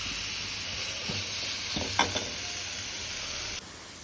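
Steady sizzling of tomatoes frying in masala in a pan, with a few brief scraping stirs of a utensil partway through.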